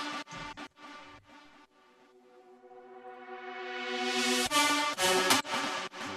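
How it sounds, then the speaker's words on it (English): Reversed synth lead drenched in very wet reverb, swelling steadily louder and brighter as it builds into a drop, then breaking into punchy synth hits at the end. "Click the reverse button and suddenly you have this reverse sound"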